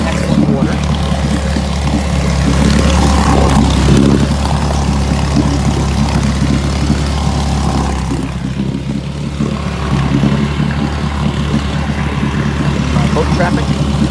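A 1959 10 HP Evinrude outboard motor runs on a boat, holding a steady, close, loud drone that barely changes across the whole stretch, with a slight dip in intensity partway through.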